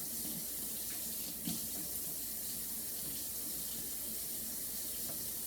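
A tap runs steadily while hands are washed at a sink, giving an even, continuous rush of water at close range with faint splashes and no speech.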